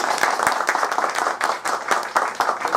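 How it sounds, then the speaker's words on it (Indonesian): Audience applause at a seminar, brisk rhythmic clapping from a modest crowd, close and steady throughout the short burst with no talking. "tepuk tangan untuk Anda sekalian"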